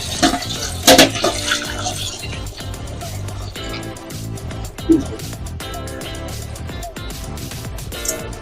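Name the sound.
water poured into potato and eggplant curry in pan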